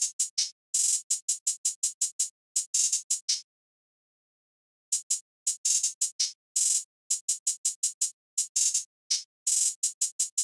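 Crisp electronic hi-hats programmed in FL Studio tick in fast, bouncy bursts with quick rolls, pausing briefly before the pattern returns, bright and alone.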